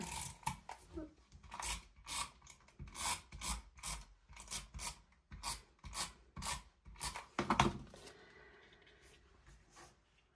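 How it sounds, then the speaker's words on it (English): Paper being trimmed for a scrapbook layout, a run of quick rasping cuts or snips in steady bursts, fairly close and quiet, fading to a soft hush near the end. "So just trim that little piece off and toss it."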